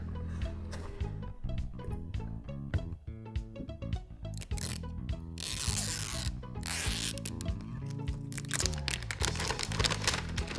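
A LOL Surprise toy package is torn open by hand at close range, with crinkling plastic, rustling wrap and sharp zipper-like tearing bursts running continuously.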